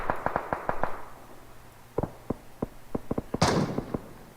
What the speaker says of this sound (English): And now gunshots after gunshots coming from all angles right now